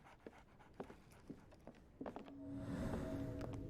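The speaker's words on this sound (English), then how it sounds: "There's a dog here." A dog pants in the Sherlock Holmes: The Awakened video game, quick soft breaths with scattered taps and shuffles, then a louder, rushing breathy stretch near the end, close but faint overall.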